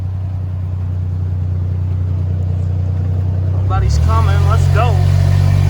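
A 1951 car on the highway, its engine a steady low rumble that swells louder as it pulls away, with a person speaking briefly over the drone.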